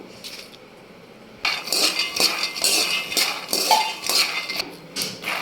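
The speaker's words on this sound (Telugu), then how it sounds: "ఇలా వేయించుకోవాలండి పల్లీలు అనేది మనం ఇలా వేయించుకోవాలి ఎక్కువ మాడినివ్వకండి" Groundnuts roast in a pan for peanut chikki and are stirred, giving quiet clinks at first, then repeated loud metallic scrapes and rattles of spoon and nuts against the pan.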